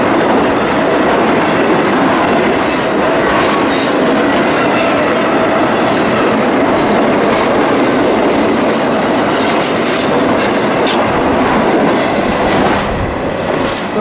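Loud Norfolk Southern freight train rolls past close by, wheels clattering steadily with metallic squeals and a constant heavy rumble throughout.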